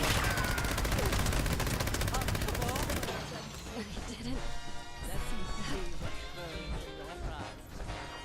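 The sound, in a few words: gunfire from a companion shooting a wall in Fallout 76 video game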